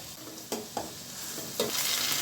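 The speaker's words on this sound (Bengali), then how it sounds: "এখন দিয়ে দেব সরিষা তেল এই মাংসটা আমি সরিষা তেল দিয়ে রান্না করব দিয়ে দেবো পেঁয়াজ কুচি" Chopped onion frying in hot mustard oil, a close continuous sizzle broken by a few quick scraping stirs of a spatula, the hiss swelling louder toward the end, no speech.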